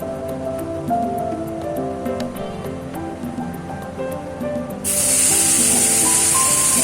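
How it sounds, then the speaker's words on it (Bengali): Torn bay leaves dropped into hot oil in a Bengali rohu fish curry: a steady, loud hiss and crackle of sizzling fills the whole stretch, suddenly brightening and growing harsher near the end. "এবার দেব তেজপাতা, একটুখানি তেজপাতাটা ছিঁড়ে দিলে গন্ধটা ভালো করে তেলে মিশে যায়।"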